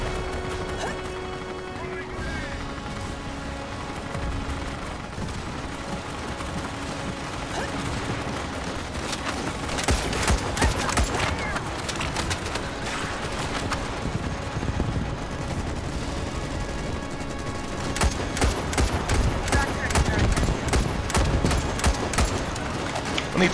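Sentry guns in Starship Troopers Extermination fire in rapid bursts and sustained volleys, mixed with crashes and mechanical clatter that grow denser and louder in the second half.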